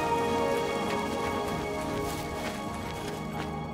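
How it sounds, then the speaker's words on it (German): Steady rain falls across an outdoor area in the video game Oblivion, a continuous soft patter of drops, with faint clopping hoofbeats and footsteps mixed in. "Oh, Regen. Es regnet, mein Freund."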